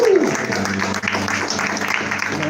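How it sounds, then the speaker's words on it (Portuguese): A church congregation at a live Portuguese-language worship service applauds, with steady crowd clapping mixed with a held voice at the start and background murmur throughout. "Você pode aplaudir o Senhor por isso?"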